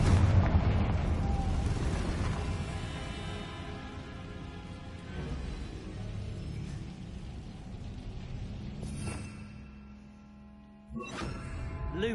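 A Confringo spell explosion in Hogwarts Legacy, a loud fiery burst that rumbles and slowly fades over several seconds, followed by a couple of softer pops near the end.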